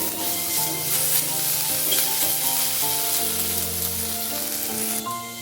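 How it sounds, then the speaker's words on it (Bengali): Soaked cashews and raisins frying briefly in a pan, with a continuous bright sizzle and crackle that holds evenly over a faint tonal background. "প্রত্যেকটা ইনগ্রেডিয়েন্টস আমি পরপর দিয়ে জাস্ট কয়েক সেকেন্ড ভেজে নিচ্ছি। দিয়ে দিচ্ছি কাজু বাদাম।"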